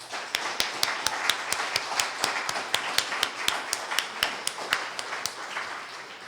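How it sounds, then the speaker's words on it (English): Audience applause for student poetry slam performers at a community college, a fairly sparse, even run of distinct hand claps lasting several seconds with no talking. "So I just want to give them all another round of applause."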